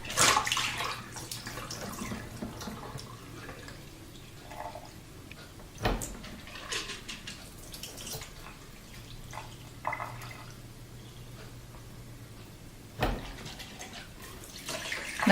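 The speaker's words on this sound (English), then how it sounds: "I'm going to drain this and rinse it" Water runs steadily from a tap as soaked spelt grain is drained and rinsed, with splashing and dripping and a few sharp knocks of handling, fairly quiet and close, no talk.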